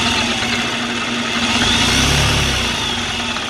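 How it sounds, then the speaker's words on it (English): An industrial sewing machine runs steadily, a continuous close motor whir with a rapid needle rhythm and no pauses. "Now I'm going to sew a bit."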